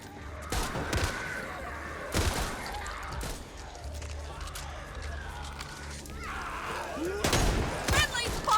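Gunfire in the Back 4 Blood co-op shooter: several sharp bursts of shots at irregular intervals over a busy, layered game soundscape, with character voices talking in between.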